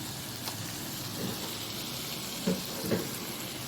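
Onions and tomatoes sautéing in a pan for prawn masala give a faint, steady sizzle with a few soft stirring knocks near the end.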